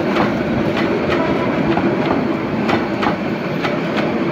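Suvarna Express, a non-stop Bangladeshi passenger train between Chittagong and Dhaka, rolls steadily with a loud, continuous rumble and regular clickety-clack of wheels over rail joints, heard from on board.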